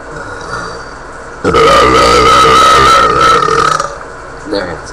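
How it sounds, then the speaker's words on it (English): A person burps loudly while singing along to a song, producing one long, sustained, tonal belch lasting a few seconds, close and dominant, followed by a brief quieter sound. "There it is, like burping, singing."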